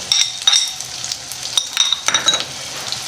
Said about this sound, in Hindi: अब मैं डाल रहा हूँ 2 प्याज जो मैंने चकोर काट के रखे हैं